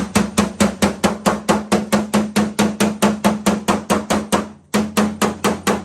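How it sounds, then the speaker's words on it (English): Hammer tapping on a tensioned car body panel during dent repair: a steady, fast run of sharp metallic taps, close and loud, with a brief pause near the end before the rapid tapping resumes. "if I now leave that pressure on there and use my hammer"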